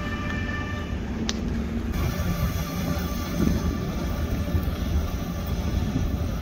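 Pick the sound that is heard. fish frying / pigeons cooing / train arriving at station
train arriving at station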